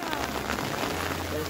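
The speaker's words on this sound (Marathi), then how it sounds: "आला पाऊस आला" Rain begins falling in a village in the Konkan hills, a steady close patter of drops on surfaces across the whole moment with a low hum underneath.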